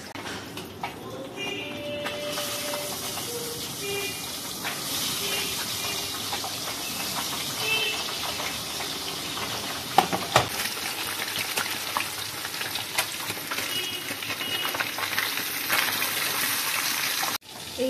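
Pabda fish frying in oil in a pan, cooked alongside a second fish, giving a steady broad sizzle throughout with a few scattered clicks and pops.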